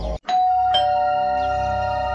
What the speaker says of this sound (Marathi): 2 मिनिटच झाले असतील तेवढ्यात दाराची बेल वाजली।